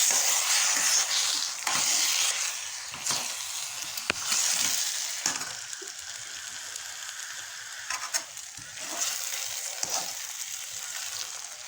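Tapioca and egg sizzle steadily as they fry in a pan, with a constant hiss and occasional scraping clicks from stirring, close and alone without talk.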